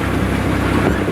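A vehicle engine in second gear at about 700 RPM, near tick-over, makes a steady low drone and rumble mixed with wind noise, close and fairly loud.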